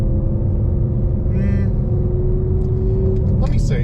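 A 2016 Ford Mustang GT with Kooks headers and a Corsa Extreme cat-back exhaust rumbles loudly and steadily at close range, its deep engine drone filling the whole stretch, with a few brief higher tones near the end.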